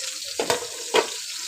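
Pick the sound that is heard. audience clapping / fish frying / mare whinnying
fish frying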